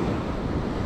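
Strong ocean waves churn at a rocky fishing spot by the Caltex point, a dense, continuous rushing wash with wind buffeting the microphone, loud and steady for a brief moment with no voices.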